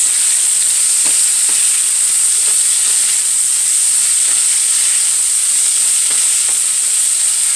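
Green peppers and onions sizzle steadily in a hot frying pan, a loud continuous bright hiss with faint scraping stirs, close and unbroken.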